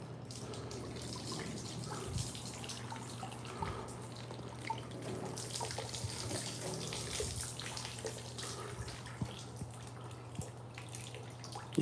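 Water runs from a tap in a steady, fairly quiet stream with occasional drips and small clunks, beside a steady low electrical hum.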